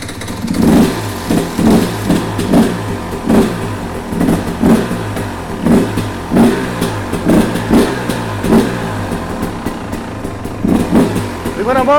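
A motorcycle engine fitted with a Lectron Billetron Pro Big Air carburetor is run without choke, revving in a steady series of sharp, close, loud bursts over a continuous idle rumble.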